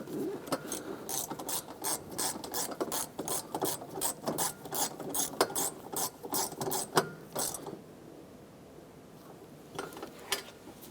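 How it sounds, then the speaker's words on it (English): Ratchet tightening strut assembly bolts on a 2004-2008 Acura TL, rapid rhythmic clicking strokes repeating close up for several seconds before stopping into quiet. "let's go ahead and tighten down the bolt in the back here."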